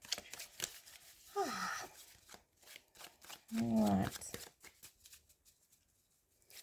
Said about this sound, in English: I haven't shuffled yet.